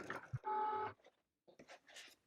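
A Cricut cutting machine cutting infusible ink designs, giving a short whirring motor run with a steady mechanical tone, then brief clicks and shuffles after a pause, quiet and close.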